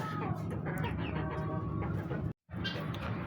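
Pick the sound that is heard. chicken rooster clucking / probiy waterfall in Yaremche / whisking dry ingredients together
chicken rooster clucking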